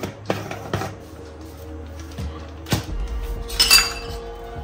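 Omelette ingredients (onion, green chilli and salt) are mixed in a bowl, with sharp clinks and taps of a utensil striking the bowl at irregular intervals over a quiet kitchen background.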